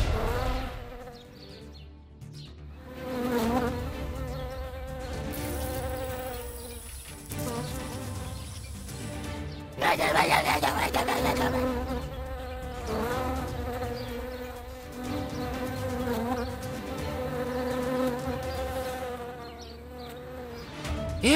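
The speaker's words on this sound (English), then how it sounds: "these bees are gigantic!" Giant bees in a Roblox horror game buzz continuously, a steady droning hum that swells and fades, with a louder burst near the middle.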